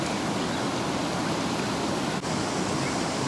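The Kaeng Din So waterfall in Pran Buri rushes with a loud, constant broadband roar of falling water, steady and close throughout, with no distinct voices.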